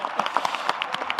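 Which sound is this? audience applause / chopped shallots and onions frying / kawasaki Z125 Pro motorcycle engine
audience applause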